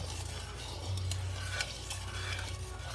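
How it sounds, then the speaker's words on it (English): A spoon stirs a pink glutinous rice mixture with sugar in a pot as it heats toward a boil, giving a steady soft sloshing and scraping with faint light clicks against the pot, close by and with no talk. "So just keep mixing."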